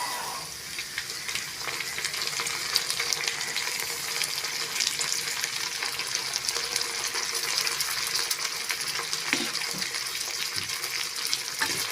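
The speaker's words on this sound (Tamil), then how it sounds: "புதினா சேர்த்துட்டு ரொம்ப வதங்கணும்னு அவசியம் இல்லைங்க ஒரு 10 ல இருந்து 20 செகண்ட் போல வதக்கி விட்டுக்கோங்க" Onions and mint sautéing in hot oil for white kuska, a loud continuous crackling sizzle throughout with occasional faint stirring scrapes; no voices.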